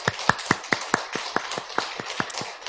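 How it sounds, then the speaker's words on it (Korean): Clapping during a Sunday church service: a sparse series of about a dozen distinct, sharp claps in a fairly even rhythm, close and moderately loud, with quiet gaps between them instead of a full crowd roar. "우리 하나님 아버지께 감사의 박수를 드리지 않을 수가 없습니다."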